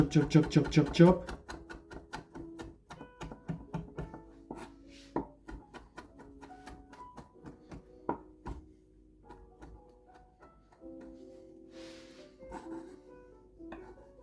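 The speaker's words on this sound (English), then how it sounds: "tarragon like this, yes, and we have to chop it a bit" Tarragon being chopped on a board for a bean soup, a quick run of sharp knife taps that slows into sparser, irregular chops, close and fairly loud, with some talk mixed in.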